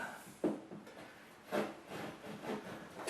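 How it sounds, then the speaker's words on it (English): Several short scraping strokes of a 2-in-1 cutting tool scoring material during electrical work on a GFCI receptacle, close and fairly quiet, with brief bursts separated by pauses. "I'm going to use this tool here. It's a marvelous tool. I just score out what I want"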